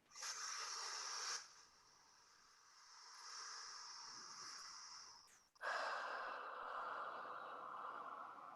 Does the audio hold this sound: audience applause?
no